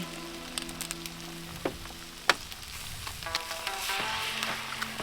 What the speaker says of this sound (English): I'll do a one-handed egg crack.